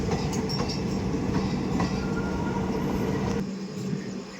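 A Humsafar Express train pulls out of Pathankot Junction, a loud, steady rumble of carriages rolling on the rails with faint rhythmic clicking of the wheels, easing slightly near the end.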